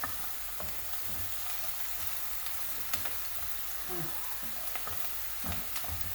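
Olives and onions sizzle quietly in a pan, a soft steady frying hiss punctuated by small crackles and pops, no talking.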